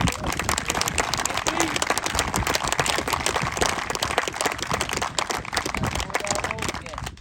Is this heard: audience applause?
yes